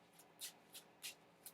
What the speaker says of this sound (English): it's a joy to shuffle